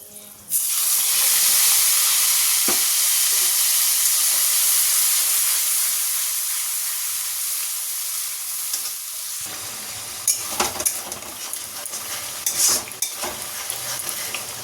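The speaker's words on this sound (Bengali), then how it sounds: "এবার এতে একটা এই যে টমেটো, আদা, কাঁচা লঙ্কা, এই বাটা মশলাটা তেলে দিয়ে দেবো" A wet paste of tomato, ginger and green chili hits hot oil in a wok over whole spices, bursting into a loud, hissing sizzle that slowly settles, with scraping stirs breaking through toward the end.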